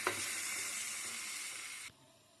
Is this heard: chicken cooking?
yes